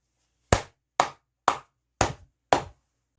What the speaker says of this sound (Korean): 크게 박수 한번 치고 가도록 하겠습니다